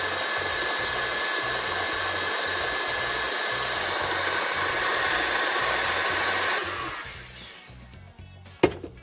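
A stand mixer creams butter and sugar with a steady, loud motor whir for several seconds, then winds down and stops with a brief clunk.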